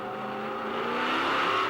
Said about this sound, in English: here they come up to speed. The pace cars picking up the pace here.